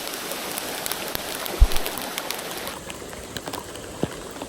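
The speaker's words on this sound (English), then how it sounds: "And it's hailing." Hail pattering down in the Australian bush on sandy, quartz-strewn ground, a steady close crackle of small impacts with a few louder isolated hits standing out, and no talking.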